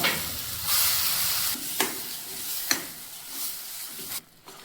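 Pav bhaji with pav bhaji masala and Kashmiri red chilli powder sizzles and is stirred in a pressure cooker, a steady close frying hiss broken by sharp scraping strokes of the spoon.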